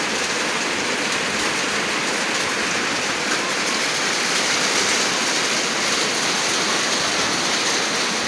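Steady heavy rain falling in a rural Lao village, a dense continuous broadband hiss with no breaks, loud and close, with no voices.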